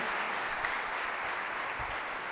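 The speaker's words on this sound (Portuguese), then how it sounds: "Pode aplaudir a Jesus." Church congregation applause, a steady even wash of clapping from many people held for a couple of seconds, fairly soft and distant, with no voices over it.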